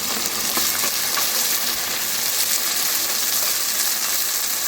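A paste of ground ginger, green chili, tomato and onion fries steadily in a pan, giving an even, close hiss of sizzling with faint stirring scrapes throughout, no voices.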